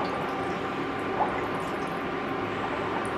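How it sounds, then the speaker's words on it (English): Water sloshing and trickling as Corriedale wool tops are squeezed in a dye bath, a steady close wet churning with faint drips throughout. "You just need to immerse it and try to squeeze the water out."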